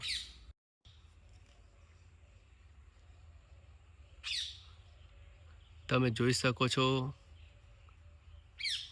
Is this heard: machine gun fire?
no